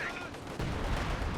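Artillery fire in Company of Heroes 2, a 4v4 match on the Lienne Forest map, with Soviet artillery shelling the battlefield: a dense, muffled rumble of distant impacts that swells after a brief lull.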